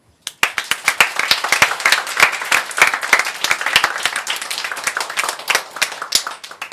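Steady applause from a church congregation during a Korean worship service, a dense run of many hands clapping close by, starting abruptly and lasting several seconds with no talking over it.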